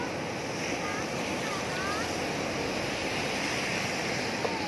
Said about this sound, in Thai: คลื่นลมแรงที่หาดทรายหาดของเจ้าครับ